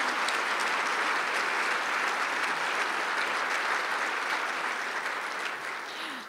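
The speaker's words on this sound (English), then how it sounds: "let's give all those organizations a big round of applause" Sustained audience applause at a leadership prayer breakfast in Chicago, dense steady clapping from a large crowd that holds for several seconds and eases slightly toward the end, with no voices over it.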